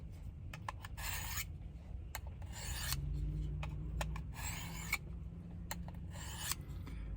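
Knife blade pulled repeatedly through the coarse slot of a guided knife sharpener, giving four distinct rasping strokes in an even rhythm with short clicks between them, close and clear.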